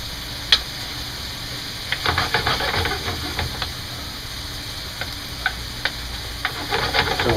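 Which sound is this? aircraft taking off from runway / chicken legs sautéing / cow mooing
chicken legs sautéing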